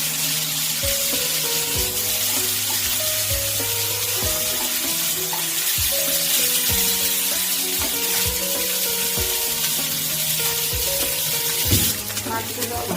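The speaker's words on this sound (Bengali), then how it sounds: "মাছগুলোকে আমি লাল লাল করে ভেজে নেব।" Shol fish sizzling in mustard oil, browning in a pan, a continuous close hiss and spatter holding steady throughout, with occasional utensil knocks and no talking.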